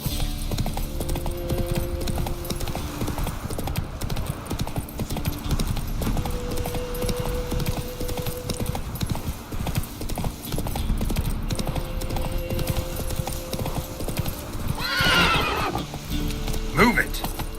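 Horse galloping in The Witcher 3: Wild Hunt, rapid rhythmic clip-clop of hooves throughout with a loud whinny near the end, while a voice speaks briefly over the riding.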